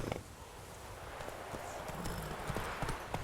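Horse hooves clip-clop at a steady walking pace in The Witcher 3, the rhythmic knocks moderately close over a soft ambient bed, with a brief voice near the start.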